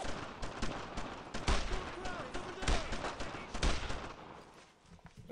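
Gunfire in the World War II shooter game Brothers in Arms, dense overlapping bursts and loud rattling volleys filling the scene, with voices faintly under the shooting.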